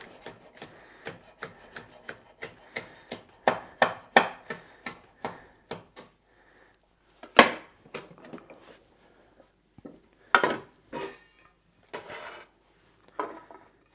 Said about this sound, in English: So this is one red diced, and the other half I'll just cut across.